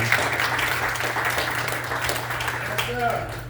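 An audience claps at a police chaplain ceremony, a moderate patter of applause running beneath a speaking voice, with a steady low hum in the background.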